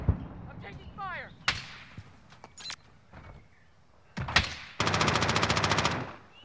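Video game gunfire crackles in short bursts, ending in a loud sustained rapid-fire stream, with players' voices talking over the shooting.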